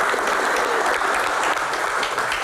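Steady, dense applause from a seated audience at an Indonesian talk show, even and sustained with no pauses, filling the whole moment without any voices on top.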